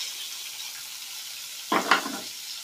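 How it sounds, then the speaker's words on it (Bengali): Onion, tomato and capsicum hit hot spiced oil with kasuri methi, cloves and cardamom, a faint background hiss jumping into a short loud sizzle and stirring burst near the end, close by with no voices, while cooking a Bengali prawn curry. "পেঁয়াজ টমেটো ফোড়নগুলোকে একটু কষিয়ে নেব"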